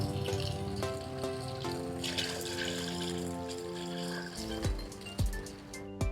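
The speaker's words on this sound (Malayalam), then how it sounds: "ഞാനിനി വെള്ളം എടുത്തു കഴിഞ്ഞാൽ അതിനകത്തുനിന്ന് വെള്ളം വരും." A small water fountain runs steadily, a light, continuous trickle of flowing water under a constant tonal hum, with a couple of soft knocks near the end.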